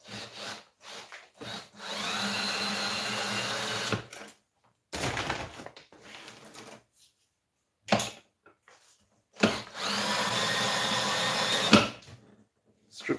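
Scrap cable is stripped with a power tool in bursts of harsh, grinding rasps lasting a couple of seconds each, separated by short pauses and quieter scraping.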